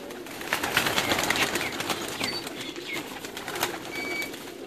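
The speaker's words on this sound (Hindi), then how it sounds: "फिर से मुख्तलिफ कबूतर।" Many pigeons coo in a large loft in Pakistan, a dense, moderately close murmur of calls with scattered soft flutters and brief chirps throughout.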